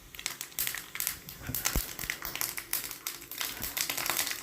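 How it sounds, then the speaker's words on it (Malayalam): Mustard seeds spluttering and popping in hot coconut oil in a pan, a dense run of rapid crackles and sharp pops that keeps going steadily and close, with no voice over it. "കടുക് നല്ലോണം പൊട്ടി തെറിച്ചതിന് ശേഷം ലേശം വറ്റൽമുളക് ഇട്ട് കൊടുക്കണം നമുക്ക്."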